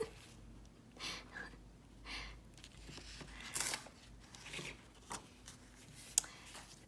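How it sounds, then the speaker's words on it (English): Paper torn by hand for a junk journal, a series of short rough rips and crinkles spread across several seconds, close and fairly quiet. "I can just tear around that"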